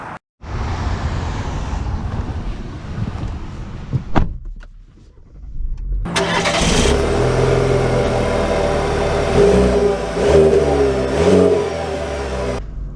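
A 2024 Cadillac CT4 Luxury runs in a loud, steady burst, then goes briefly quiet before a strong, sustained engine drone with rising and falling pitch as the car gets underway.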